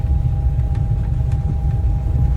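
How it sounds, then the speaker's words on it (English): A car's engine rumbles steadily close behind an enclosed mobility scooter riding along a road at night, a continuous low drone with a faint steady hum and no talking. "there's even a car behind me"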